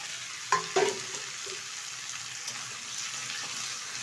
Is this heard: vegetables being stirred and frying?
yes